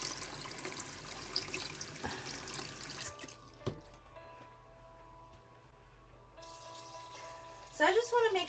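Tap water runs steadily into a container to fill it for soaking soup-making equipment, a close, even rush that stops after about three seconds, followed by quiet and a few clinks and clatters near the end, with a voice speaking.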